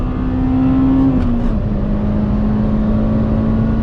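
A stock Honda pulling hard through third gear, its engine note climbing steadily until VTEC engages with a brief shift in tone, then droning on at high rpm, loud and close.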